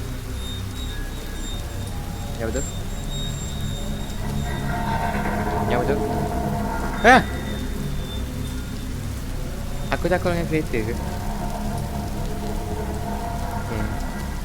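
Steady rain patters throughout a scene in the video game The Shopping List, soft and constant beneath game characters talking, with a sharp click partway through.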